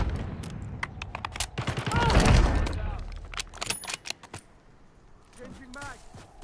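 Rapid bursts of gunfire from a video game, sharp close cracks clustering into a loud burst mid-clip, then thinning to scattered shots as a player's voice talks over them.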